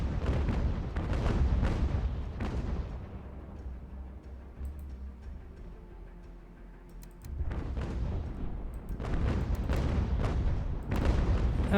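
Heavy naval cannon fire in Ultimate General American Revolution during a large sea battle, loud booming volleys in clustered bursts at the start and end with a quieter rumbling lull between.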